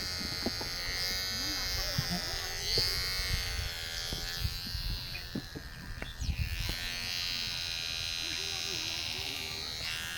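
Electric hair clipper buzzing steadily as it cuts an elderly man's hair at home, a close continuous drone with small shifts in pitch, heard under occasional voices.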